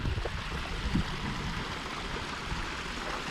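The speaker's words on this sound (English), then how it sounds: "this is a beautiful little waterfall coming down" Water tumbles down a small waterfall near a mountain lake in Gifford Pinchot National Forest, a soft continuous rushing and gurgling heard from a moderate distance with light handling bumps.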